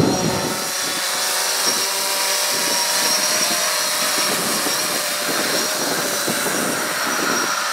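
A DJI drone flying in ATTI mode, drifting with the wind, gives a loud, steady, high-pitched motor and propeller whine that holds without a break throughout.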